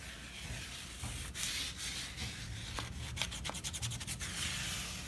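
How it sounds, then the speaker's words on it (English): Coarse 60 grit sandpaper rubs by hand along a wooden table's edges, a close, soft scratchy rasp in repeated short strokes that speed up toward the end. "now I'm going to get my 60 grit sandpaper and I'm just gonna run it right down these edges"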